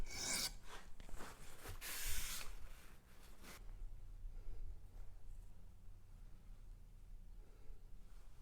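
A Rough Ryder Half Hawk knife blade rasps across a coarse 220 grit DMT black diamond stone in a few gritty strokes, loudest early and then fading to faint quiet scraping, close up with no talking.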